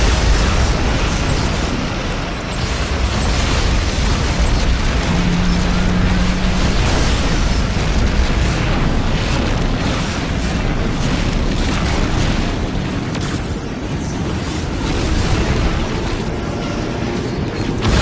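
Photon torpedo blasts and heavy booming explosions fill a Star Trek Legacy space battle, a loud continuous roar of detonations with a brief tonal beep partway through.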